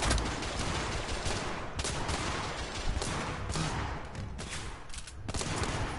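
Gunfire in the video game The Order: Rise of the Lycans comes as a dense, sustained fusillade of overlapping shots and rumbling blasts, steady and moderately quiet, with no talk.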